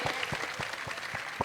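Spectators at a wrestling bout clap in a rhythmic, evenly spaced beat, several sharp claps in a row, fairly quiet and with no voice over them.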